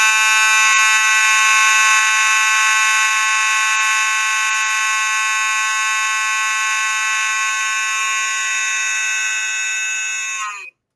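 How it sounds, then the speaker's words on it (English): A Commander 3 fire alarm horn blares in a loud, continuous, unbroken blast for about ten seconds before cutting off abruptly, with no talking over it. "So I'll hook up another fire alarm that's also a horn show. Maybe my Commander 3, if that's fine, Dale."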